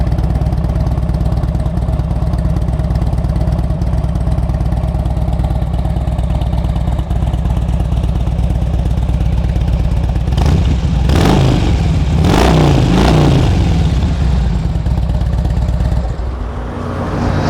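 Loud, steady idle from a 2007 Harley-Davidson Ultra Classic FLHTCU motorcycle, broken by several quick throttle blips that rev the V-twin up and let it fall back, before the engine quiets near the end.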